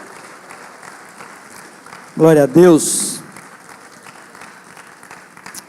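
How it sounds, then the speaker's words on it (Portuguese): A church congregation at a Sunday celebration service clapping as a soft, continuous background, while a voice speaks loudly over it for about a second in the middle. "Aplauda o Senhor, queridos, porque Ele é bom"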